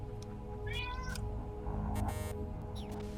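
A cat meows several times in Metal Gear Solid Peace Walker, short rising calls over a steady droning game background.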